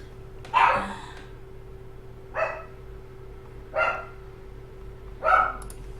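Dogs bark in four separate bursts spread evenly over several seconds, heard from a moderate distance against a steady low electrical hum.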